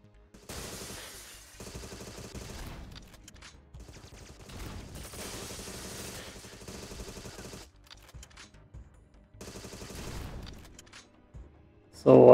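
Gunfire from the Agent 64 spy shooter game, a Goldeneye 007-style title, comes in several bursts of rapid shots separated by short pauses, fairly close and moderately loud, with a sharp sound at the very end.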